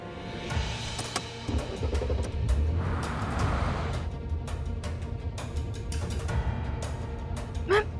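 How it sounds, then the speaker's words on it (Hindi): A car starts and pulls away, its low engine rumble and rising drive-off noise running under a soft, muffled background for about eight seconds. "मैम गाड़ी स्टार्ट हो रही है।"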